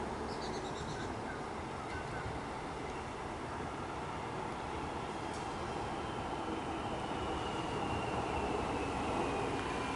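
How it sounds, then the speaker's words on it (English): A Melbourne suburban train on a Flinders Street service pulls into a station, a steady broad rumble and rail noise holding throughout at moderate loudness, no voices. "And we've got the train arriving."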